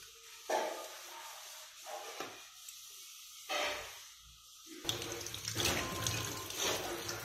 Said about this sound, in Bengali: তো আমি এক এক করে এগুলো এখন ধুয়ে নেব।